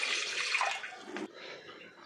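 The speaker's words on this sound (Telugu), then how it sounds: "పావు లీటర్ వాటర్ ముందు పోసేసుకోవాలి" Water, about a quarter litre, gushes and splashes briefly into a pot on the stove, then stops abruptly, leaving a softer trickle.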